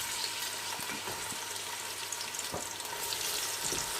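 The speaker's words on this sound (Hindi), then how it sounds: "यहाँ मैंने हाफ़ कप ऑयल है उसको गर्म किया है। इसमें मैं 2 कटे हुए प्याज हैं वो ऐड कर रही हूँ।" Two chopped onions hit half a cup of hot oil in a pressure cooker, giving a steady, close frying sizzle with faint stirring clicks throughout.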